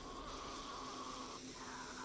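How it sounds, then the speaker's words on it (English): A sleeper zombie in the survival game 7 Days To Die gives off a low, steady droning groan, faint and continuous like snoring, with no voices over it. "That's usually the sound of a sleeper."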